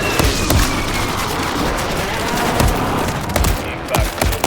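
Artillery fire mission in the shooter game Warzone pounds the area as a loud, dense barrage of booms and cracks that overlap continuously, with distant explosions under the gunfire.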